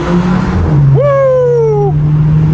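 Close, loud car engine, a 1.4 with a free-flow exhaust, revving hard in third gear, its pitch swooping sharply upward and holding over a steady road drone.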